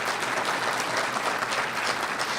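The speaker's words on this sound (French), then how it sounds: "Et, oui, vous pouvez l'applaudir." An audience at an NDP General Council in Trois-Rivières bursts into applause, a full, even roar of clapping hands that holds steady from start to finish without talk.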